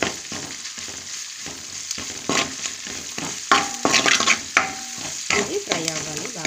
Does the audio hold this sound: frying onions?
yes